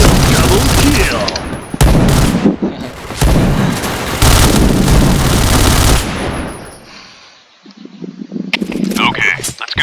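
Rapid bursts of Kriss submachine gun fire in a video game, loud and close, broken by short gaps, then fading into quieter clattering game effects near the end.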